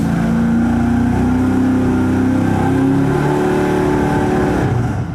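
A race engine roars steadily on a dynamometer during a carburetor versus fuel-injection test, holding a loud, sustained drone with slight pitch shifts, close and without speech.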